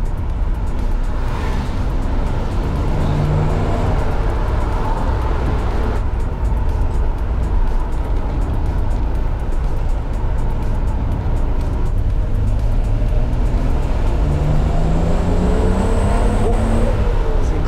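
A Nissan GT-R R32 accelerating hard on city streets, with a loud, continuous engine roar rising and falling through the gears from inside the car.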